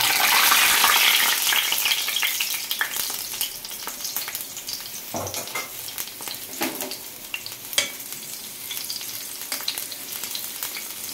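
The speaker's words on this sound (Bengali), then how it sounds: "এবার এই দইয়ের মধ্যে তরকাটা দিয়ে দেবো" Hot tadka of spices poured into yogurt for a Bengali dahi baingan, giving a close, steady sizzle and crackle that fades into lighter bubbling and a few stirring knocks, with no talking.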